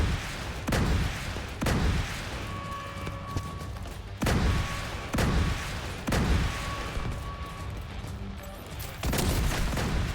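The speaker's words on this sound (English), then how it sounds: "Missile turrets activating." Missile turrets in The Division 2 fire in a steady series of loud, booming blasts, roughly one every second or two, each followed by a rumbling tail over constant battle ambience.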